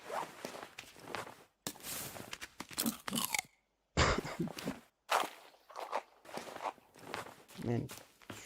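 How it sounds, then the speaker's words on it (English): In the survival game The Forest, crunchy food is eaten in a series of loud, close crunching bursts separated by brief silences, mixed with rustling noises and some talking. "very crunchy food you got there."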